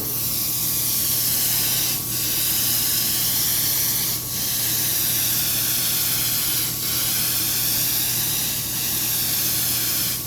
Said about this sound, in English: see how I'm angling the airbrush